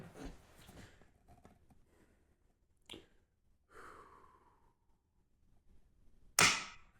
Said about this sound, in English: Just dry fire once here.